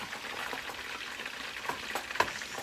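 Someone stirs ground turkey seasoned with salt in a frying pan. A soft, steady sizzle carries a few quiet scrapes from the stirring, and nobody talks.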